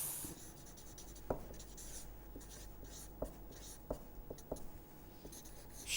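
Marker or chalk writes on a board with faint scratching strokes and a few soft taps, quiet and close, with no voices.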